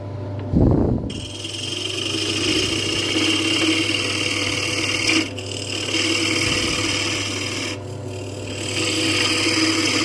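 A woodturning tool scrapes and rasps against jacaranda wood spinning on a lathe, a continuous rough cutting noise over the steady motor hum, with a few brief dips where the tool lifts away.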